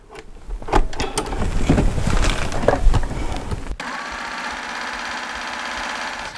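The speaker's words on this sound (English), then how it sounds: "So let's do that rolled hem and see what it looks like." A serger stitches a rolled hem on leftover quilt binding fabric, a close mechanical whir with knocking that starts uneven and then settles into a steady, even hum.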